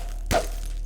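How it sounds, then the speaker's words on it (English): A crowbar from the Half-Life 2 video game strikes once, a single sharp thunk with a brief crack, heard alone against a quiet background. "The crowbar swinging and striking,"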